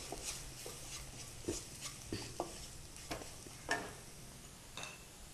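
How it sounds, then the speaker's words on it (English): Spice powders sautéing in a pan for Kabuli rice make a soft, low sizzle broken by scattered spoon scrapes and light taps against the pan, with no one speaking. "add all the powders together. Saute just for a minute."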